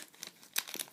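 Scissors cutting open a Pokémon trading card booster pack, giving a few quiet snips and crinkles of foil wrapper, close and soft, with faint rustling between cuts.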